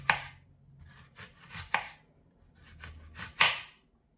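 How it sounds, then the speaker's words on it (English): A knife dices an onion on a cutting board, giving a series of crisp, close chopping taps in short uneven bursts, clear and alone with no talk. "that will allow us to have very even cuts all the way through the onion"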